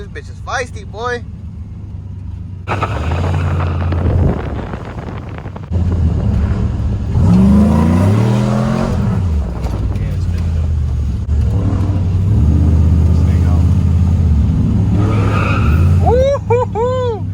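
A Chevrolet Silverado with a 6.2 LS3 V8 revs hard as its tires break loose, a loud, close engine roar with rising and falling pitch and skidding tire noise, overlaid by wind buffeting and excited voices.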